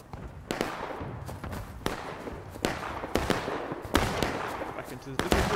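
Cannon booms in a War of Rights line battle game, several sharp blasts spaced a second or so apart over a busy battlefield backdrop of distant gunfire.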